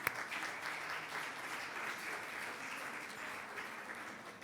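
Audience at a recital competition applauds with a continuous, even patter of many hands, heard from a distance and fairly quiet, with no talking over it.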